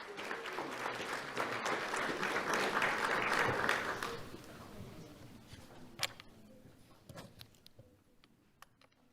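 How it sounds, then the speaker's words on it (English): Audience applause at an awards ceremony honoring a student, a dense burst of clapping for about four seconds that thins to scattered claps and fades out, with faint ticking and camera-like clicks in the room. "Let's have a round of applause for Eileen Aviles Gutierrez."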